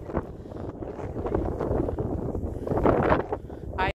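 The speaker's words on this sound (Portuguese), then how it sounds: "Aí, está muito vento." Strong wind buffets the microphone at an outdoor castle viewpoint, a loud, continuous roaring rumble with gusting swells that cuts off abruptly at the end.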